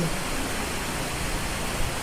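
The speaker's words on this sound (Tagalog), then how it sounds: "pero malakas ng ulan mga langga. Kita nyo yung ulan." Heavy rain falls outside as a dense, even hiss that stays steady and fairly faint from start to finish, with no break.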